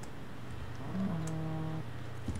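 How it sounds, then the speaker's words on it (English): A cow in a video game gives a single drawn-out moo, a low steady tone with a slight rise at the start, heard clearly over a constant background hum with no talk. "Oh, cow got out."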